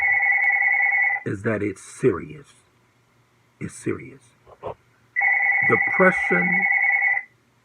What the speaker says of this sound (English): excuse the phone, the voicemail will get it.